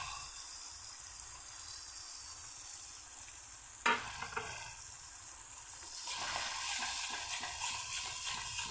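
Peanut paste frying with spice masala in oil for a Bengali vegetarian dish, giving a steady soft sizzle; a sharp clatter of stirring lands near the middle, then the frying grows louder and busier toward the end, with no talk.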